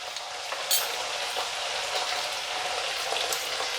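Spices with salt and sugar sizzling in a frying pan while being stirred and mixed, a steady close hiss with a few light scraping clicks from the spoon.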